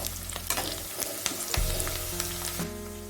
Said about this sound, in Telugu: ఉల్లిపాయ పచ్చి వాసన పోయేంత వరకు ఉడికించుకుందాం